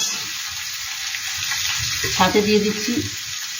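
Capsicum and tomato fry in a pan for egg chilli, a constant bright sizzle running throughout while someone speaks briefly over it.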